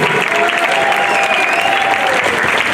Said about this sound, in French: On applaudit bien fort Iris, s'il vous plaît.